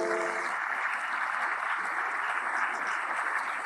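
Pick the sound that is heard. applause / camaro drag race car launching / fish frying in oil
applause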